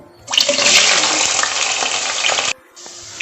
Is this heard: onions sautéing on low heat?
yes